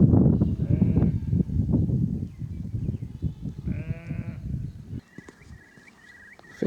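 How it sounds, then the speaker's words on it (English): A sheep bleats loudly outdoors near a lake, giving two drawn-out wavering cries over a busy rustling background, followed by quieter sounds that could be distant birds. "There's a very loud sheep over there."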